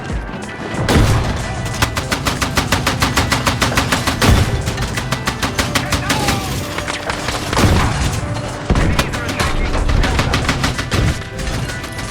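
Rapid bursts of tank gunfire and heavy explosions from Battlefield 6 combat against an M1A2 Abrams, loud and continuous with rhythmic repeated shots and several big booming blasts across the whole stretch.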